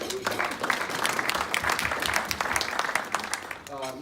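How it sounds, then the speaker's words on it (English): A school-district gathering audience applauds, a dense close wash of many hands clapping for several seconds before fading as a voice begins speaking. "So please give yourself a hand of applause."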